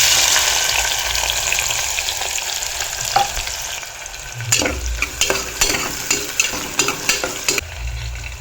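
Onions frying for a curry, a loud sizzle that eases down, then a run of regular spatula strokes scraping and stirring through the pan, close and clear with no voices.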